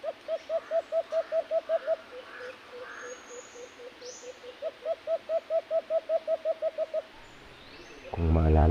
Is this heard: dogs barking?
no